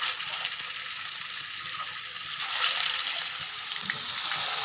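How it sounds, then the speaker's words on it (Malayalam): Fish frying in coconut oil in a hot pan for a Kerala-style dish, a steady close crackling sizzle that swells briefly midway and continues throughout with no talk. "നമുക്ക് അതിനകത്തേക്ക് വെളിച്ചെണ്ണ ഒഴിക്കാം മീൻ ഇട്ട് കൊടുക്കാം"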